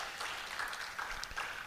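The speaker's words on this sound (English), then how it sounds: "keep clapping for her" Conference audience claps for a speaker coming up to the podium, scattered fairly faint clapping from a crowd.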